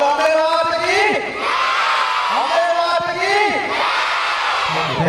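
A large crowd at a garba event in Ahmedabad roars with cheers, whoops and shouts, steady and loud throughout, while a voice over a loudspeaker carries above the noise.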